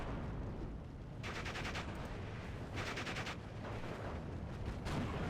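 Artillery fire in the WWII strategy video game Steel Division 2: a constant rumbling battle backdrop broken by two short bursts of sharp rapid firing, heard alone without talk.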